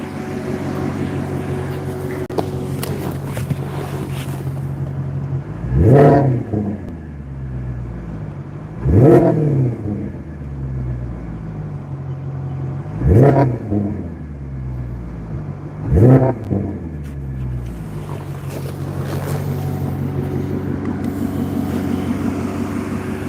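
A loud sports car engine with straight pipes revs sharply four times, each burst rising and falling back to a deep, rumbling idle that carries throughout.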